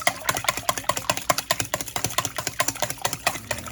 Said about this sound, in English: Whisk that up a little.